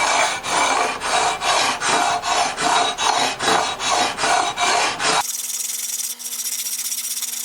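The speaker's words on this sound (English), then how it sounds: "This is 320 sandpaper." 320-grit sandpaper rubbed back and forth along a wooden Strat guitar neck in about a dozen even, close rasping strokes before the rubbing stops.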